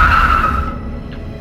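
A car skids to a halt on a deserted road, its tyres giving a loud, brief screech that fades over about a second and leaves a low rumble behind.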